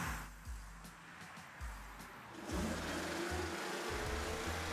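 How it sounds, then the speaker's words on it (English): An Electrak electric garden tractor, a rat-rod build, drives along with a loud rattling drive chain and a steady mechanical whir, with heavier clanking bursts as it gets moving and a louder continuous run in the second half. "I could finally take the tractor out for a spin."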